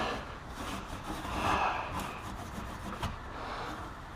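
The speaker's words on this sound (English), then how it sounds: "I'm just going to wipe this till it's about dry" A cloth wiping the fender well trim of a 1972 Oldsmobile Cutlass, soft close rubbing swishes that swell and fade over a few seconds.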